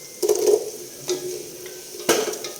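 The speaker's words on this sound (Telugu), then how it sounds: "ఇందులోకి ఫస్ట్గా క్యారెట్ వేసుకుందామండి." Carrots tipped into a cooking pan for a Telugu dappalam vegetable stew, giving a couple of close clattering thumps and scrapes against the metal, moderately loud with no talking.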